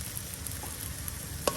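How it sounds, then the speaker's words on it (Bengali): Ground garlic, ginger, mustard, cumin and onion pastes fry in oil in a pan, making a steady soft sizzle with one brief clink of a utensil near the end. "এই যে এখন ভালো করে তেলের সাথে এটা একদম ভেজে নেওয়া হচ্ছে।"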